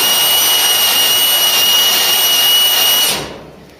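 Power drill boring into the pillar of a Ford Cortina Mk3 during restoration, a loud steady high-pitched whine held for about three seconds before cutting off abruptly and winding down.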